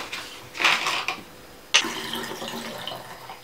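Fixer solution pours out of a film developing tank in two splashing bursts, a gurgling stream that starts, stops briefly, then resumes sharply and trails off into a thinner trickle, close by.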